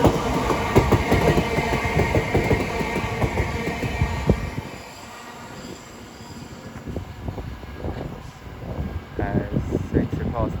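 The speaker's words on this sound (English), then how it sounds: "Soon to pass through now will be southeastern pairs 707s going from Sevenoaks to London Charing Cross." Southeastern Class 707 pairs run through New Cross station from Sevenoaks toward London Charing Cross, a loud rolling rumble with rhythmic wheel clatter that fades briefly then builds again, with a voice speaking over it.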